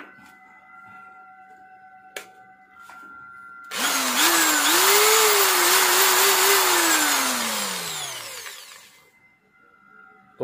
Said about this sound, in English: Drill bit.